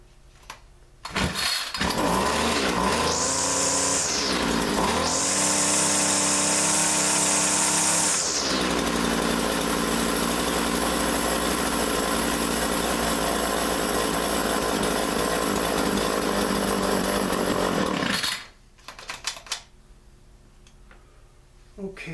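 A John Deere weed eater in bad shape, its small two-stroke engine sputtering to life, revving high twice, then settling into a long, loud, steady run close by before cutting off abruptly near the end.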